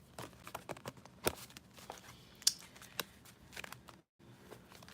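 Tarot cards being shuffled by hand at close range, a run of soft papery riffles and taps with a few sharper flicks, then a brief quiet gap near the end.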